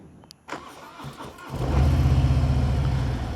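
A Harley-Davidson Fat Bob 114 motorcycle in neutral cranks briefly and fires up, then settles into a loud, throbbing idle with a deep, lumpy rhythm close by.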